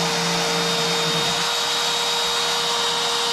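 A CNC router cuts a slot for plywood while making a mortise and tenon router template, giving a loud, steady high whine with a constant tone and a faint rumble as the bit moves through the material.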